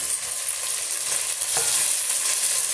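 Chopped tomatoes sauté in a hot pan for kuska, a constant loud sizzle with a brief stirring scrape partway through and no voices.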